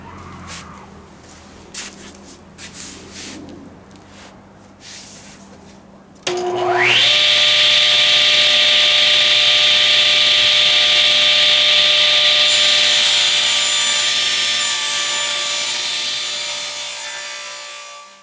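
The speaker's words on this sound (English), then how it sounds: "for the final cut on the 2 big panels, I'm going to use my sled, and it has the stop block on the end" A saw on a crosscut sled with a stop block cuts large wooden panels: soft workshop knocks give way to a loud, steady motor whine that holds for about ten seconds, then gradually fades as it winds down.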